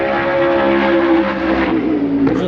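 Engine drone at a French race track during a Ligier Cup and Fun Cup race meeting, a loud, steady roar that holds close and constant for the whole stretch with a slight pitch shift near the end.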